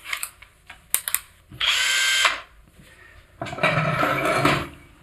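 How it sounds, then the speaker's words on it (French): A power drill bores into a brick partition wall in a few bursts: short clicks and starts, then a loud sustained whirring grind lasting under a second, a pause, and a second longer grinding run close by. "Donc je vais percer."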